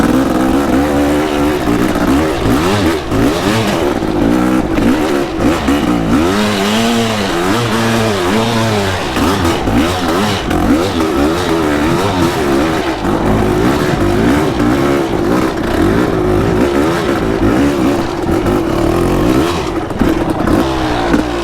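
A Kawasaki KX500 two-stroke dirt bike engine roars loud and close, revving up and down continuously with rising and falling pitch and a rough, raspy idle in between.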